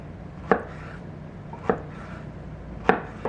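Knife chopping peaches on a cutting board while preparing peach syrup, three sharp, separate knocks spaced about a second apart against a quiet kitchen background.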